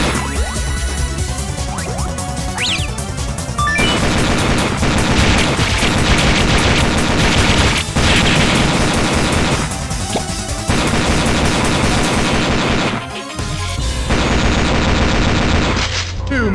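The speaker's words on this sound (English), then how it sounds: "two machine guns." Dense, continuous machine gun fire from two guns in the arcade shooter Metal Slug 6, loud and relentless with rapid bursts, explosions and game music layered in, pausing only briefly near the end.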